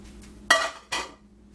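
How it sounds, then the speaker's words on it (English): Cooked, drained meat is scraped from a pot into a bowl in a home kitchen, two sharp metallic clanks of a utensil against cookware, close and distinct, with quiet between them. "I'm going to transfer it into the bowl"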